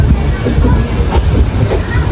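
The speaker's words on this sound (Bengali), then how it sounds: "আমাদের ট্রেন আবার চলতে শুরু করেছে।" A passenger train running again just after leaving a tunnel, loud rumbling wheels with rhythmic clattering over the rails, heard from inside the carriage with no talk.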